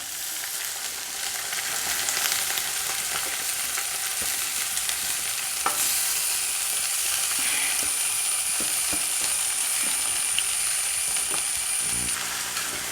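Ginger and green chillies fry in a pan, giving a steady, close sizzle throughout with scattered crackles and stirring clicks.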